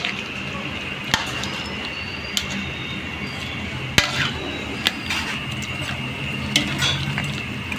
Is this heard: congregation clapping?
no